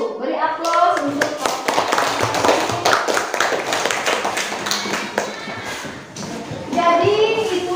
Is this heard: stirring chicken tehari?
no